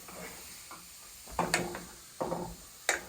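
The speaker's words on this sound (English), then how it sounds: "We're sauteing our cauliflower rice." Cauliflower rice sautéing in a pan, with quiet sizzling broken by a few scraping stir strokes against the pan, close by.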